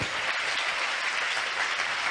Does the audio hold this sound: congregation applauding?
yes